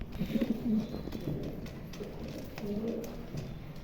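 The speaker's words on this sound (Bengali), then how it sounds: "দুটো কবুতারই মার্শাল্লাহ দেখার মতন অনেক বিগ সাইজ কবুতর" Two large pigeons coo quietly nearby, a few low throaty bursts near the start and again toward the end, with faint murmuring in the background.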